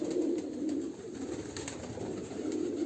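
Pigeons coo in low, continuous rolling murmurs close by, a soft throaty burble that carries on throughout.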